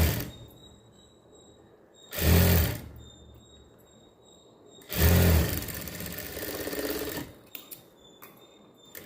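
A sewing machine stitches the back neck of a blouse in two loud, close bursts of whirring motor and needle, each a few seconds long, separated by quiet pauses.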